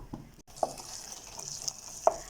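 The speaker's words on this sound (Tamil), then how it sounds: "மிக்ஸி ஜாரில் கொஞ்சமாக தண்ணி சேர்த்து இப்போ அதையும் இந்த வெங்காயம் தக்காளி வதங்கினதோட ஆட் பண்ணிக்கலாம்." Ground paste of coconut, ginger, green chilli and garlic, loosened with a little water, goes into onions and tomatoes frying in a pan for a mixed sprouts curry. Quiet sizzling runs throughout, with a few soft clicks of stirring.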